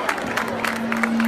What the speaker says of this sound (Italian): un applauso a Vaccarizzo!